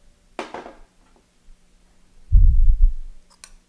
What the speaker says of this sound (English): So I'm going to mix the onions and the mint in with the spinach